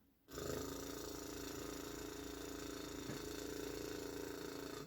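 A voice imitates the soft purr of a small motorbike on a country road with a lip roll, a low continuous buzzing hum that starts abruptly after a brief quiet and holds steady, close and fairly soft.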